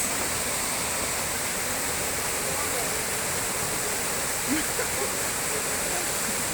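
A waterfall in Agoriani, Greece roars as a dense, constant broadband rush of falling water, steady and loud throughout, with a brief voice near the end.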